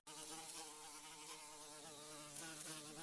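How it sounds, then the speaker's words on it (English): A tiger mosquito, the black-and-white striped invasive insect, buzzes in a steady, high, whining drone, close and continuous with no other sounds. "The tiger mosquito and its global threat."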